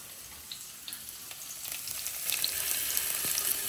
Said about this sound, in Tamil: இந்த மாதிரி எண்ணெயில் போட்டுக்கலாம் போட்டு அதை பொரிய விட்டுடலாம்